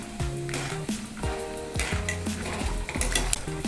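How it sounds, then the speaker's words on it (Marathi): Peanuts frying in 200 grams of hot oil in a kadhai for Nashik Kondaji-style chivda, with steady sizzling broken by repeated metal clinks and scraping of a stirring spoon against the pan. "तेल गरम झाले, यामध्ये टाकायचे शेंगदाणे."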